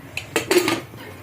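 A brief metallic clatter of an iron wok set down on a stove, a couple of quick clanks close up, no voices.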